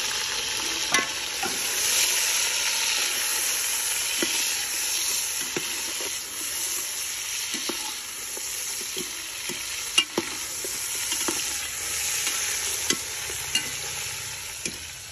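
Meat fried with onions in a pan, a steady loud sizzle with the scrape and clink of a spoon stirring at irregular moments throughout.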